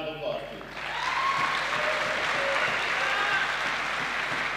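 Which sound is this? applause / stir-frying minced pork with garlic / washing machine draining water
applause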